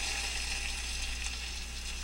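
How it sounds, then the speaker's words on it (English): Food sizzles steadily in a frying pan, a rich, continuous crackling hiss held close and at an even level throughout, with no voices. "Get the sizzle from the frying pan."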